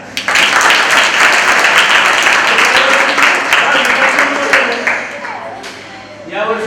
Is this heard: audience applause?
yes